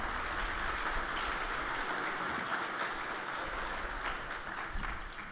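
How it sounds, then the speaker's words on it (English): Sustained applause from a crowd at an Australia Day ceremony in Singleton, Australia, following a town band, steady dense clapping throughout that fades slightly toward the end. "another round of applause to Singleton Town Band"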